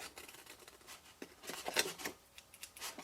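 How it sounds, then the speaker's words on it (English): Quiet, close snipping and rustling of scissors with a damaged tip working through paper, a series of short crisp cuts at an irregular pace. "That's scissors with a dodgy tip."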